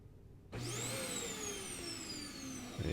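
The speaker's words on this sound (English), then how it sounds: "the vacuum's coming on" A vacuum cleaner suddenly switches on after a moment of quiet, its motor whining up to a steady, loud roar that continues to the end.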